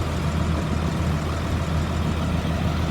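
A 2004 Blue Bird All American 72-passenger school bus engine runs at a steady, even idle, heard close and continuous.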